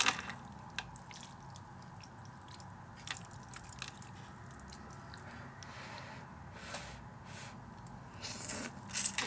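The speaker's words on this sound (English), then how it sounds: "just me stirring things" A pot of Vietnamese pho being stirred, with soft liquid sloshing, squishes and small drips, quiet and close throughout.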